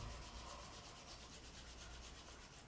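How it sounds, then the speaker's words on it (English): Palms rub together during a gentle morning yoga session, a soft, steady, close swishing friction that continues evenly throughout without any voices. "Wherever your hands are, you can rub them together."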